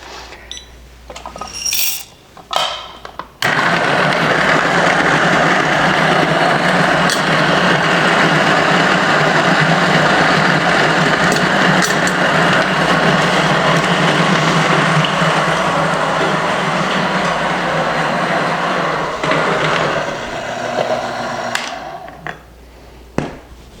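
An espresso machine brews a shot of espresso from fresh coffee beans, giving a steady, loud pump hum and hiss that runs for about twenty seconds, with brief clatter at the start and end.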